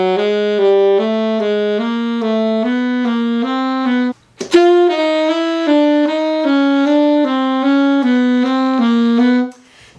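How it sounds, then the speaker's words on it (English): Chromatic scale played in thirds on a solo melodic instrument, clear sustained notes stepping upward in paired intervals, close and loud, with one short break before the pattern resumes to the end. "Now, this week we want to work on playing our chromatic scale in thirds."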